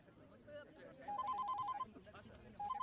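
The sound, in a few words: telephone ringing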